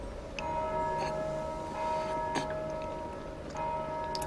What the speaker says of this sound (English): The bells are ringing again.